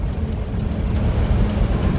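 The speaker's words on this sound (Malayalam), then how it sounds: "മഴ" Steady, dense rain with a low rumbling roar underneath, continuous and fairly loud throughout, no voices.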